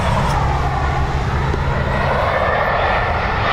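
An airplane at Dublin Airport gives a loud, steady, broad engine roar that fills the whole stretch without fading, with no clear voices over it.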